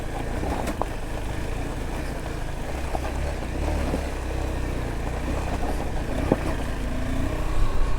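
KTM adventure motorcycles riding off-road on a rough trail in Kotagiri, a continuous, close, rumbling engine drone with wind buffeting and small bumps throughout.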